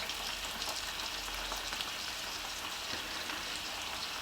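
Eggs and bacon frying on a plate in a Ninja air fryer, a steady soft crackling sizzle with fine pops throughout, faint and even, with no talking.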